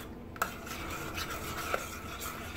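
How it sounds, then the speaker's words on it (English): Melting butter stirred in a pot for no-bake cookies made with coconut palm sugar. A spoon clicks against the pot twice over a soft, continuous scraping swish, quiet and close with no voices. "And give it in a nice little stir."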